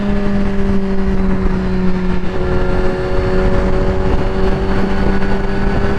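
Superbikes such as a Suzuki GSX-R1000, a Ducati V4 and Kawasakis cruise fast along an interstate, a loud steady engine drone with sustained tonal whine and buffeting wind noise throughout.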